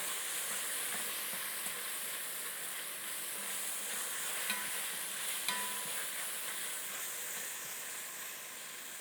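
A Jamaican jerk chicken inspired stew sears in a pot, a steady soft hissing sizzle with faint scraping stirs and a few small clicks, quiet and continuous throughout, with no voices.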